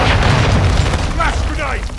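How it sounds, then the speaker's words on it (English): A heavy cruise missile blast in Call of Duty Modern Warfare II multiplayer team deathmatch, a deep sustained boom rolling loudly through the first second, with game voice callouts and chatter layered over it. "Hostiles launched a cruise missile!"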